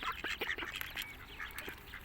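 A large duck, the mother of twelve ducklings, quacks in a run of short nasal calls at feeding time in Logroño, Spain. The calls come close together at moderate distance with no voices over them.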